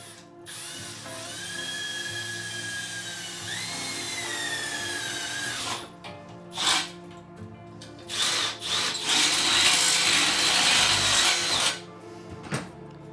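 Power drill boring a hole in a Coleman BT200X minibike during a modification, a steady close whirring that climbs and steps in pitch for several seconds, followed by short bursts of drilling and clanking tool handling.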